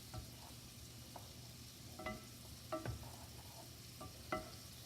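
Food sizzling on a grill in a home kitchen: a steady, quiet crackle and hiss with scattered sharper pops and clicks, no talk.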